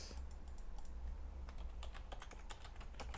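Quick, light keystrokes on a computer keyboard as commands are typed, an irregular run of soft clicks over a low background hum.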